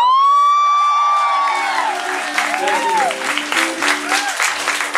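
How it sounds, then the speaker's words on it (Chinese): An audience applauds at a band's encore concert: dense, steady clapping builds and keeps going, with a sustained tonal voice or whistle at the start and shouting voices over the crowd. "我们掌声谢谢好球，好不好？"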